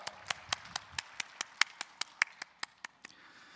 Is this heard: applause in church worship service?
yes